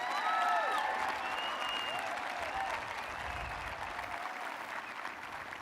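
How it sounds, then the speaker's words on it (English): A graduating class and audience at a 2020 high school graduation break into sustained applause, with a few whistles riding over the dense clapping, which stays steady and eases slightly toward the end. "Let's give them a round of applause"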